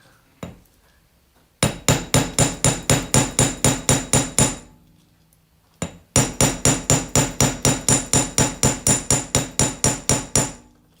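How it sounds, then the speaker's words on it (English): Jewelry wire is hammered flat on a steel bench block, a close, loud run of evenly spaced metallic strikes in two quick bursts of about a dozen blows each, separated by a short pause. "Any tips as you're hammering?"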